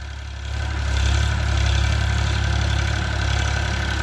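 A Farmtrac 4x4 tractor engine runs in a farm field, a steady low diesel rumble that swells slightly after the start and holds at a constant idle-like drone.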